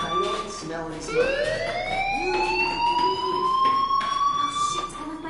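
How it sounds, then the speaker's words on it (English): A fire alarm in the video game Life is Strange starts after a brief moment of speech and then wails as a loud, rising electronic siren tone that holds for several seconds. "Hey, do you hear that fire alarm?"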